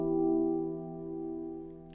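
A sustained piano chord in G, a six chord reached by a deceptive cadence, rings out alone, loud at first and slowly fading.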